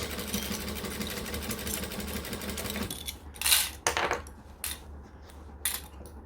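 A sewing machine runs steadily for about three seconds while stitching binding on a Donna by Swoon bag, then stops, leaving a few soft, separate clicks and handling knocks.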